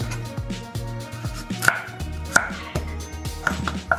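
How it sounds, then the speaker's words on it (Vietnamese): A knife slices peeled pumpkin thinly on a cutting board, with a steady run of close, crisp chopping strokes and a few sharper knocks, no voices. "Sau khi bỏ vỏ rồi mình cũng xắt nhỏ nhỏ mỏng như vậy, bỏ vô."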